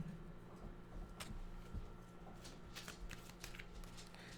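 A deck of tarot cards is shuffled close by but quietly, a soft repeated riffling and flicking of cards in quick bursts with no talk.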